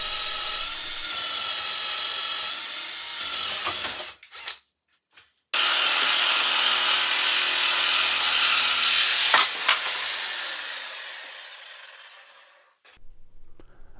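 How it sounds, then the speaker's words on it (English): A handheld jigsaw cuts relief holes by hand into a home-built F-16 ACES-II ejection seat part, buzzing loud and steady in two long passes separated by a brief stop, then winding down to quiet near the end. "cut them out with my jigsaw by hand"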